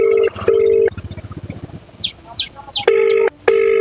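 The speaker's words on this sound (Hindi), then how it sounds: "लग गया एसडीओ साहब को कॉल, रिंग जा रही है" Phone call ringing tone on an outgoing call in Bihar: loud paired ring pulses at the start and again near the end, separated by a pause with faint chatter and some brief chirping sounds.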